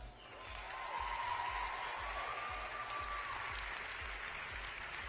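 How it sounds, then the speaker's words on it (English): An awards-ceremony audience applauds the men's track and field athletes, a dense steady wash of many hands clapping that swells in and holds throughout, with no talk over it. "one more round of applause for the men's track and field athletes"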